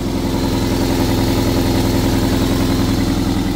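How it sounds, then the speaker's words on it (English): Close, loud idling car engine with a bad exhaust blow, a steady low rumble and a rapid rhythmic puffing from the exhaust, running alone. "I'll let you listen to that engine."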